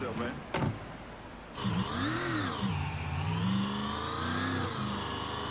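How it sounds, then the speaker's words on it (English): A car engine in Mafia 3 revs up and down in smooth, wavering swells, steady and close, with a brief clunk at the start. "This car sounds tight."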